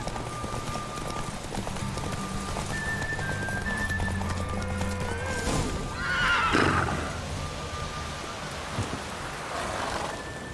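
A horse in The Witcher 3 gives a loud whinny midway through a steady bed of game ambience and music, with hoof clatter and a patter like rain around it.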